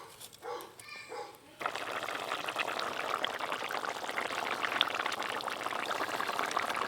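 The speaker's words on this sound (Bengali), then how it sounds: "এবার জল দিয়ে দেবো।" Water pours steadily into thick curry gravy in a pan, a continuous close splashing rush that starts abruptly after a short muffled clatter and holds at even loudness to the end.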